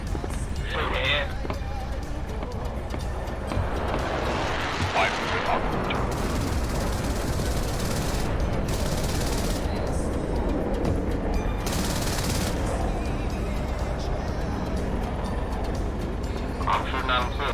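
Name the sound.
aircraft machine gun fire in flight sim video game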